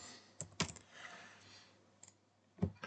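Computer keyboard keys being typed, a few quiet separate clicks followed later by a short burst of keystrokes, close and soft, with no talking.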